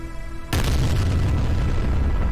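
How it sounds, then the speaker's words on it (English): A huge, sudden explosion in a space video game: after a brief low hum, a loud boom bursts in and rolls on as a dense, sustained roar. "Sorry, an ultra explosion."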